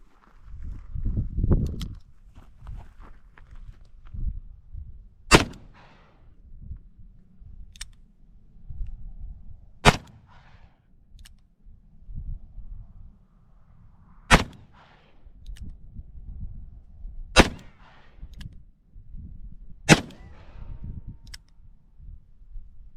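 A new Colt Python .357 Magnum revolver fires about six sharp, loud shots spaced several seconds apart, each a crisp crack with quiet handling noise between.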